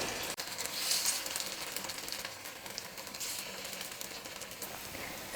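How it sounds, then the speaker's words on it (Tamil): Rava kuzhi paniyaram frying in oil in a paniyaram pan on a stove over medium flame, giving a steady, soft sizzle and hiss throughout with no talking. "குழிப்பணியாரம் வந்து எப்போவுமே மீடியம் ஃப்ளேமில் வச்சுட்டே குக் பண்ணும்போது உள்ளேயும் நல்லா வெந்து வரும்"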